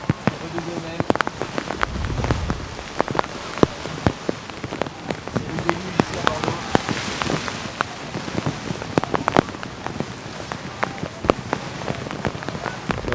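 Heavy rain pours outdoors in Bordeaux, a dense, constant patter of drops striking surfaces with sharp close splats and a low rumble early on, loud and unbroken throughout.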